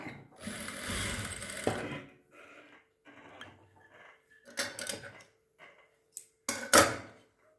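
A sewing machine stitches fabric for a tassel, running in a long burst of about a second and a half, then shorter runs of stitching separated by quiet pauses, with no talking.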